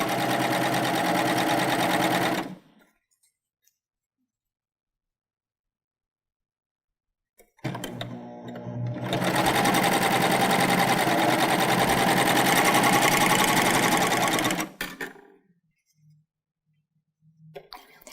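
A Baby Lock Euphoria sewing machine pieces fabric squares: a short burst of steady, close whirring, then silence for several seconds, then a longer continuous run of stitching that stops abruptly, with small clicks after.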